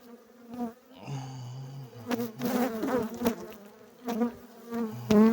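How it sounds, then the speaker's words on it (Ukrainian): Angry honey bees buzz steadily during a spring hive inspection, a close, dense drone with shifting pitch, while someone speaks intermittently over the swarm. "Бджілки трохи зляться."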